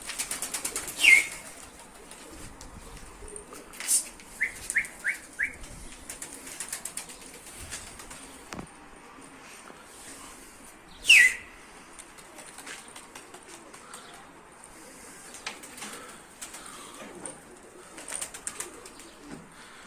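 Young play pigeons are released outdoors, with repeated bursts of wing flapping and a few short coos and calls scattered over a quiet background.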